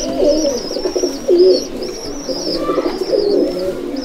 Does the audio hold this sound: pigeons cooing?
yes